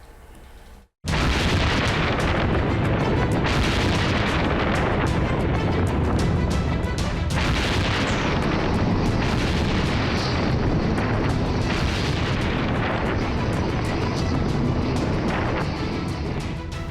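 Israeli bombs exploding on Hezbollah sites, a sudden loud blast followed by a long, heavy roar of rumbling explosions, dense and continuous.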